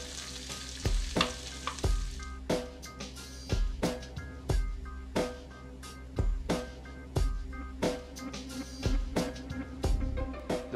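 Chopped onion sizzling in a layer of hot olive oil, a steady close frying hiss punctuated by regular sharp clacks of stirring every half second or so throughout.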